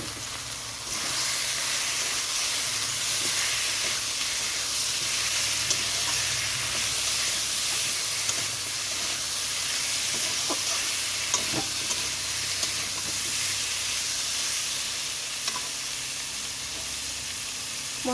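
Prawns fry in a pan of ginger, garlic and green chili paste, giving a steady loud sizzle with hissing steam and occasional stirring clinks, with no talking.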